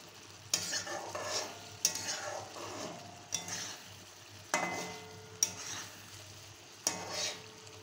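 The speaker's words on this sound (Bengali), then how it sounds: "টকবক টকবক করে ফুটছে মশলাটা, কষতে কষতে কষতে কষতে" Spice masala for an egg curry simmers and sizzles in a pan while a spoon scrapes through it in steady strokes roughly every second, close and moderately loud, with no talking.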